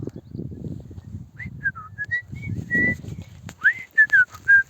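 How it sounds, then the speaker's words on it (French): A person whistles a short tune on a woodland walk, clear and close, over rustling footsteps and faint background noise. "Vous avez vu, je siffle bien."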